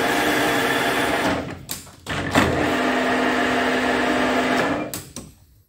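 Lathe taking a final cut on a tractor part, a steady whirring machine drone with a sustained tonal whine, briefly dipping near two seconds, then running on before winding down at the end.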